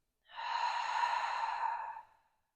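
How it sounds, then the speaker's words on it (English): A single long, soft exhalation during a yoga breathing exercise, a smooth breathy rush lasting about two seconds that fades out gently, close and alone in a quiet room. "Exhale."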